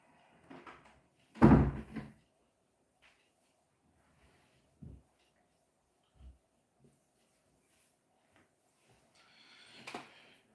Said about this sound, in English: I'm just gonna close the door